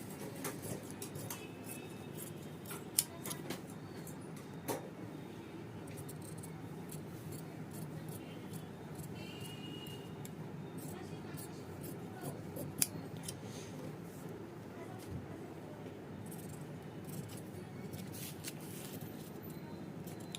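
Scissors cutting blouse fabric for a collar blouse, a long run of quiet snipping and crisp blade clicks at an irregular pace, close and soft, with a voice explaining in Hindi now and then.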